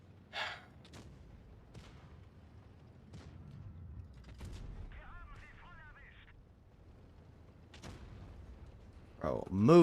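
Enemy tank cannon fire in a tank battle game lands as a few sharp, sparse booms amid quiet engine rumble, with a player talking over it and radio-like chatter near the end.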